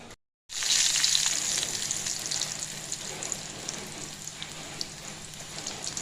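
Ghee sizzling as it heats in a pan before a burger is made, a steady close frying hiss that starts abruptly after a brief silence and continues evenly, with faint crackles.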